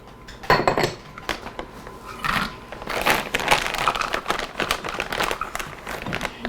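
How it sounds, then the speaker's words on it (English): Eggs and salt are whisked in a bowl, with irregular clinking and scraping of utensil against dish in uneven bursts, close and moderately loud, mixed with other kitchen clatter. "Okay, whisk that up really good."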